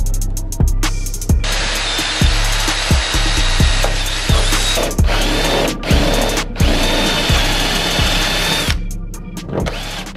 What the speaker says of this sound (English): I can just drill these holes out bigger